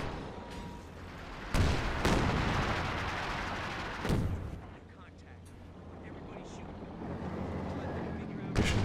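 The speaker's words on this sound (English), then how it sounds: "Taking some pot shots at its position." Gunfire booms out in a Company of Heroes 2 battle, with several heavy shots spaced a few seconds apart over a rumbling wartime background while someone commentates.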